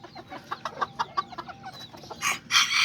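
Aztec and Serama chickens and a rooster cluck in a quick, uneven series of close calls, ending in a louder, harsher burst of squawking.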